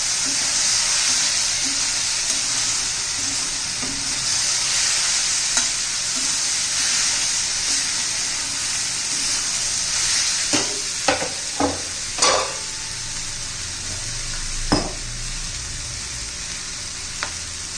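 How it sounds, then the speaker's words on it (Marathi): Tomato masala with red chili powder being sautéed for a cluster bean curry, a long steady sizzle and hiss with gentle stirring, then several sharp spoon taps against the pan near the end, no one talking. "चांगलं परतून घ्यायचे आपल्याला टोमॅटो आपण चांगलं परतून घ्यायचं आहे"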